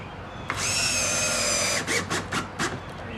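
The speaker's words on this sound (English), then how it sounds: "Next we're going to take some exterior screws and screw the other side." A drill driving exterior screws into a steel prehung door frame: a steady high whine for over a second, then several short pulsing bursts as the screw seats, close and loud.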